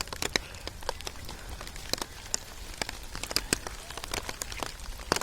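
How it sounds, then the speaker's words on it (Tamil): Rain falling at the Tirumala tourist spot in Andhra Pradesh, heard as a steady light patter of scattered drops close by, with irregular sharp taps over a soft wash and no talking. "மழை இருக்குது."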